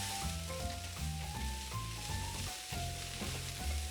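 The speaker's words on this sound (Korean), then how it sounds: "마지막으로 우리가 이렇게 당근만 볶으면 돼요" Carrots stir-frying with a pinch of salt in a pan, a continuous close sizzle with rhythmic scraping and tossing of the utensil through the whole stretch, no voices.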